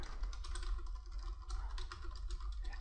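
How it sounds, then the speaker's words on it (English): Rapid typing on a computer keyboard while entering text in the Nano editor on Linux, a steady stream of close, light key clicks with no voices. "I could type whatever I want in here."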